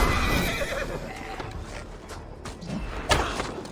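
A horse whinnies loudly and close in Assassin's Creed Valhalla, set in Paris, amid dense battle noise with thuds and hoof clatter.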